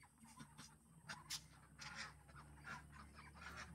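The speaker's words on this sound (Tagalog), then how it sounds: "Aking mga itik ko." Domestic ducks on a rural farm in the Philippine provinces, a flock giving soft overlapping nasal quacks and honks, faint and a little distant.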